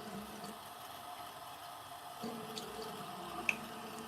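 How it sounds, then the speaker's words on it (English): Warm water runs into a container for soaking pens, a faint, steady trickle with a few small drips and splashes close by. "And so we're just gonna fill this with warm water as well."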